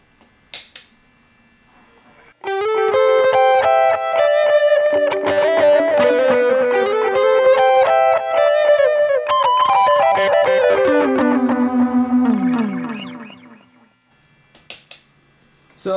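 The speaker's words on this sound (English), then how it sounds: "Here's a little solo line, and I'm gonna stack it with the diamond" Distorted electric guitar solo line played through a pedalboard stacked with a Diamond pedal, a loud run of sustained, bending notes lasting about eleven seconds with no talk, a few faint taps before and after.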